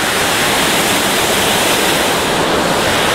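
Water pours steadily down a small rocky cascade into a resort swimming pool at Disney's Wilderness Lodge, a loud, continuous broadband rush close by with no voices.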